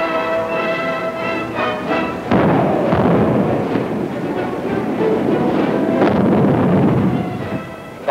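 Mortar and artillery fire from World War II combat footage: a steady, dense roar of blasts and rumbling gunfire runs loud throughout, with a heavier burst of explosions partway through.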